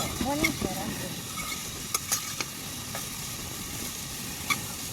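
Tomato with chili powder frying in a pan at a lakeside camp, a steady close sizzle with occasional clinks of a utensil, a faint voice in the background.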